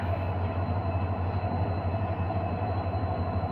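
Steady low rumble of a heavy goods train rolling past at Adilabad railway station, a continuous droning hum with no voices.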